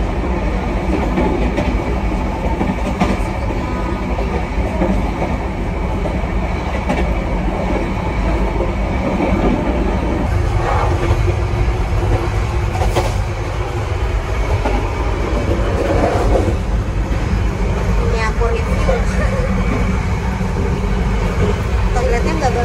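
Loud, steady roar of a moving train heard from inside its toilet cubicle, rushing wind and rattling wheel noise filling the space without a break, with a brief voice coming through at times.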